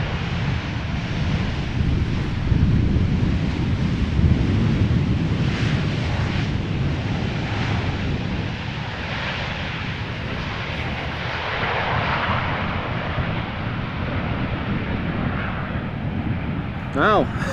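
A 24-year-old airliner arriving at Amsterdam Schiphol Airport roars steadily overhead, a broad loud engine rumble with wind buffeting that holds for the whole stretch before easing off.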